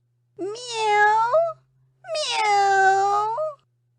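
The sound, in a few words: narrator imitating a cat meowing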